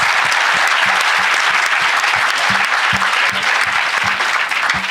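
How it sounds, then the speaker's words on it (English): Students applauding together at an event, a dense steady roar of clapping lasting throughout, loud and close, with no talk over it. "A big round of applause, students."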